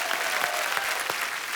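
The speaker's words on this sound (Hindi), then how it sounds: "जोरदार तालियां।" Studio audience applause on The Kapil Sharma Show, a dense, loud, continuous burst of clapping from a large crowd, close and steady with scattered sharper claps.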